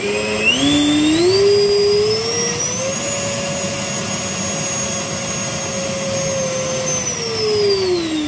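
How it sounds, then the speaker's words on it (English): A Fly Fly F4 Phantom model jet's ducted fan during a thrust test spools up with a rising whine, holds a loud steady high-pitched scream for several seconds, then begins to wind down, close and alone. "after we've just done the thrust test, we're coming up at about 2 kilograms of thrust"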